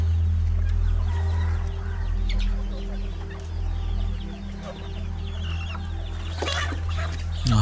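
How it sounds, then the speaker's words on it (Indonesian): Chickens cluck in a busy farmyard scene in a Malaysian Raya advertisement, with scattered clucks and squawks over a loud steady low background, growing sharper near the end. "Tangkap ayam."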